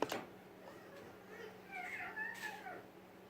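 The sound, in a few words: child imitating a cat meowing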